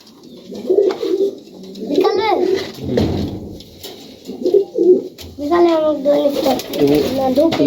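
Highflyer pigeons of the Kaldom breed coo repeatedly in a loft, close, throaty rolling calls with wavering warbles, while a voice talks intermittently between and over them.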